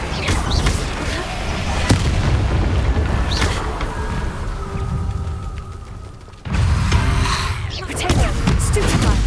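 Confringo fire spell blasts and combat in the Hogwarts Legacy game, booming explosive thumps over a dense rumbling background, a sudden cut to quiet around the middle and then renewed loud battle noise.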